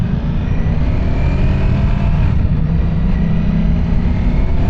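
A 2025 Ducati Streetfighter V4S motorcycle pulls away in stop-and-go traffic, its engine a loud, close, continuous low rumble that holds steady with slight swells, no voices over it.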